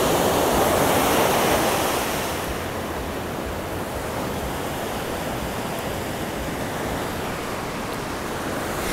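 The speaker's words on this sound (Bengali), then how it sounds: "দেখো জল দেখো পুরো ফেনা হয়ে আসছে।" Foamy sea waves washing onto a beach in Phuket, a continuous broad rushing surf that swells loudest in the first two seconds and then settles into a steady close wash, no voices.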